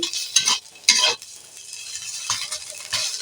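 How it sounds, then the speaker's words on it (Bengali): Bottle gourd leaves frying in a pan with a hissing sizzle as their water cooks off, broken by repeated scraping strokes of a spatula stirring, close and fairly loud. "এইভাবে নাড়াচাড়া করে করে ভাজতে থাকবো যতক্ষণ না জলটা মরে যাচ্ছে"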